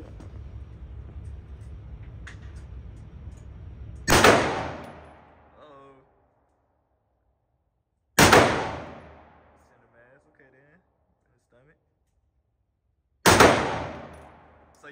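Three loud, sharp gunshots at an outdoor gun range, spaced several seconds apart, each followed by a long echoing decay into near silence.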